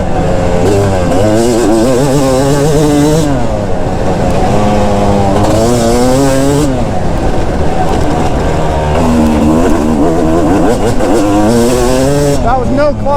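Yamaha YZ250 two-stroke dirt bike engine under riding load, a loud, continuous buzzing drone that rises and falls steadily as the rider works the throttle through the gears, close to the microphone.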